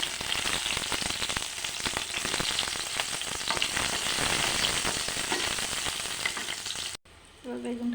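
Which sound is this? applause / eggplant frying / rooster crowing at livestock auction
eggplant frying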